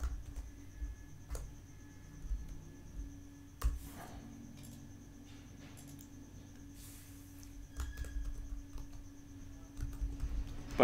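Light, faint keystrokes on a computer keyboard while code is written, irregular soft clicks spread across a quiet background with occasional louder taps.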